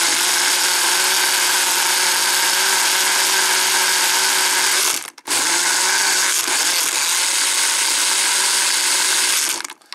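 A countertop blender grinds ice cubes with cold water and soybean noodle soup powder, running as a loud, steady whirring drone that stops briefly near the middle, restarts, and cuts off at the very end.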